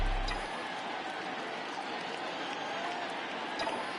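A baseball stadium crowd in MLB The Show 20 rises for a full count, giving a steady, broad wash of cheering and applause at moderate distance throughout.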